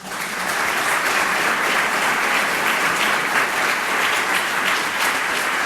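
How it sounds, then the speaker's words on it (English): A full-house audience gives a speaker another round of applause after a talk, loud continuous clapping that rises fast and stays thick and steady throughout. "Let's give her another round of applause."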